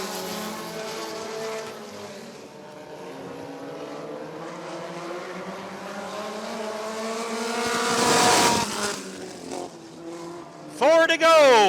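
Midget race cars roar around Rockford Speedway in a feature race. Engine notes rise and fall as the cars pass, with one loud close pass near the end, under an announcer's running commentary.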